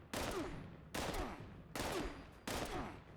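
Four loud, evenly spaced bursts of gunfire from a video game weapon, each a sharp crack with a short decaying tail, repeating roughly every three-quarters of a second.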